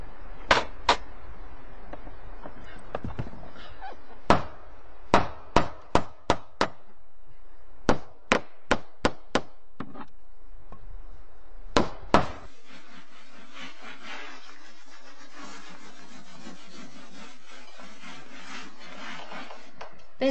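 Sharp metallic hammer strikes land in irregular bursts, some in quick runs of three or four, then stop, leaving a steady hiss of water or background noise.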